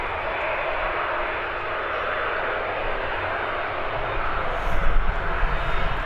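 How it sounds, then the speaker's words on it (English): A Learjet taxis onto the runway at Birmingham Airport, a steady broadband engine rumble and whine that holds throughout and swells slightly louder near the end, heard from nearby in open grassland. "Here comes the Learjet, making its way onto the runway."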